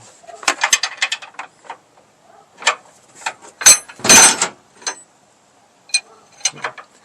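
An alignment cam tool being turned on a truck's alignment cam during a DIY wheel alignment gives a series of short mechanical clicks and ratcheting bursts, close and fairly loud, with brief pauses between turns and no talk.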